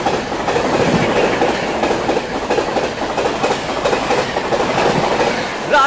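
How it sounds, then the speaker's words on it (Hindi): Ranchi Rajdhani Express races by at 130 km/h, a close, continuous roar of rolling wheels with rhythmic clickety-clack from the passing coaches and no pauses. "पूरी रफ्तार में फ्लैट 130 पे आती हुई रांची राजधानी"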